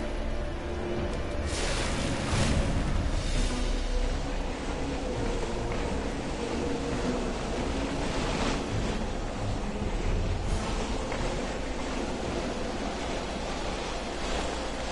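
A big boat out on the ocean in the video game Neverwinter, a steady rushing wash of waves and wind noise, continuous and fairly loud, with no talking.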